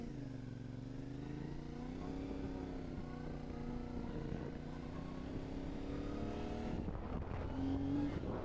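A motorcycle engine drones steadily during a ride, a continuous low rumble with a slowly shifting pitch, faint and somewhat distant throughout.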